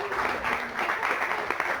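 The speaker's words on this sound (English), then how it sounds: "give Elena a big round of applause" Applause from a workshop audience for Elena, a brief modest round of clapping from a small group, moderately faint and even.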